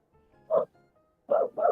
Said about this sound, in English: Oh, Inky's barking.